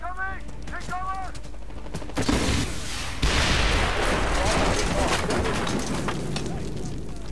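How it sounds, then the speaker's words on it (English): An RPG is fired and explodes during a Medal of Honor Warfighter firefight. Brief voices give way to two loud, close blasts, followed by a continuous roar of gunfire and debris. "Did he just fire an RPG at him?"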